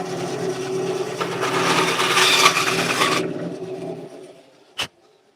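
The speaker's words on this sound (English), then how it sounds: "I'm going to trim this on the bandsaw a little bit" A bandsaw trims a cherry burl pen blank, a dense broadband cutting rasp that is loud and steady for about four seconds, then stops and leaves the motor winding down, followed by a single sharp knock near the end.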